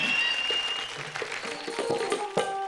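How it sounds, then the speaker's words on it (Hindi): A studio audience applauds on a Hindi TV comedy stage after a request for a ghazal, a scattered clapping texture mixed with tonal voice or music sounds. "जोरदार तालियां बजाइए"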